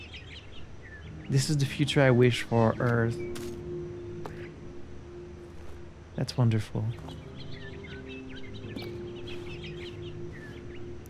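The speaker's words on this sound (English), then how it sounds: "Can hear the birds outside." Birds chirp and chickens cluck outdoors in The Stanley Parable, a scene of nature reclaiming an abandoned place. The calls come in short clustered bursts at moderate volume, and someone talks over part of them.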